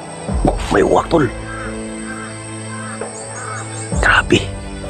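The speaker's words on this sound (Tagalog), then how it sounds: "May uwak tol." A crow caws a few times, harsh and fairly close, in two clusters separated by a steady background hum.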